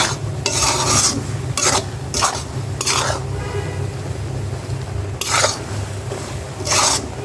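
Beef frying in mustard oil in a pan, a constant loud sizzle broken by repeated scraping strokes of a spatula stirring against the pan.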